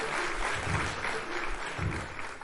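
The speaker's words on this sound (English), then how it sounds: "Can I please get a round of applause for these women?" A crowd applauding steadily, a continuous crackle of clapping with a muffled, boomy low rumble, filling the whole moment without pause.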